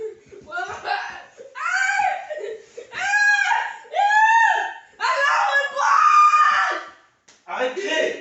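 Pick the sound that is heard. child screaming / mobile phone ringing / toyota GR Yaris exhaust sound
child screaming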